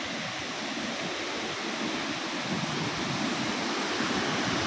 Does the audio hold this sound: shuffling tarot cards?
no